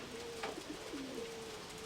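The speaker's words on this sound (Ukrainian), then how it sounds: "Голуби височенько вже вони, височенько." Pigeons cooing outdoors, a few soft low hooting coos close by over steady background noise.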